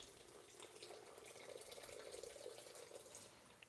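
Water running steadily from a tap into a small pitcher in a home kitchen, a continuous soft splashing stream that stays even from start to finish with no voices.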